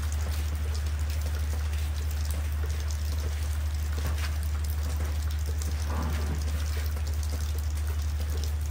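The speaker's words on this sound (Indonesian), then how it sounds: "ternyata hujan lagi" Steady rain patters and drips on surfaces throughout, with scattered louder drops over a constant low hum.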